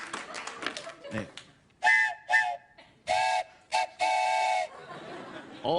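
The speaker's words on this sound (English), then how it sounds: "It's a steam train." A steam train whistle sounds in several short, loud tonal blasts of uneven length on a late-night TV talk show, after a brief stretch of talk.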